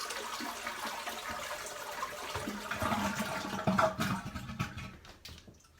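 A toilet flushes after its water valve is shut off, with rushing, gurgling water that swells midway and then drains and sputters away, heard close up without talk.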